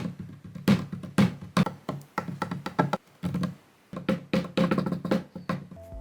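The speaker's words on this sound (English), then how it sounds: "Another thing that I used to draw a lot of samples from was actually just using my hands on this table." Bare hands tap, knock and rub on a wooden tabletop, producing a loose series of close, dry thumps and brushing strokes in irregular bursts with short pauses between them.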